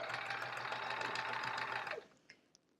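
A sewing machine stitching the last seam of an envelope pillow case, a steady close whirring run that stops after about two seconds, followed by a few faint clicks.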